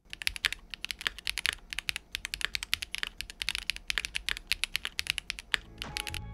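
Steady, fast typing on a QK75 mechanical keyboard with only plate foam installed, a dense run of crisp clacky keystrokes with brief pauses, close and clear with no voices.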